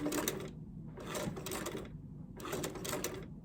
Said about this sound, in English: I'm going to stitch up to where I want to stop